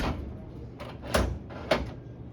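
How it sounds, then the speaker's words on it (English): A vending machine door swings shut after a cashless card reader is installed, giving two firm thuds about half a second apart over a low background hum, fairly close and with no talking. "Once it's on, you can shut the door."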